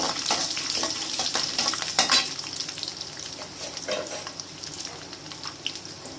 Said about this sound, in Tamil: வத்தலை போடணும்